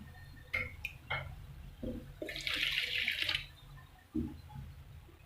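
Poppy seeds being washed by hand in water to rinse out sand and grit, with soft sloshing and splashes in a few short bursts and a brighter running-water rush midway, close and fairly quiet.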